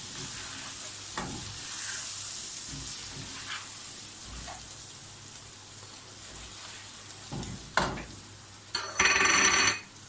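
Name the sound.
fried onions added to sizzling biryani pot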